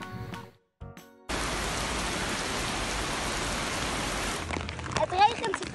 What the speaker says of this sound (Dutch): Het regent heel hard, vind ik.